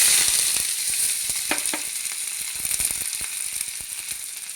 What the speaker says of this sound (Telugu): ఇది ఇప్పుడు ఆయిల్ పెట్టుకున్నామండి. పోపు, ఉల్లిపాయలు, పచ్చిమిరపకాయలు